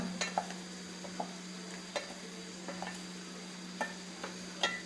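Clam thoran with crushed spice paste being stirred in a pan, a spoon scraping in scattered soft clicks over a steady faint sizzle, with no voices.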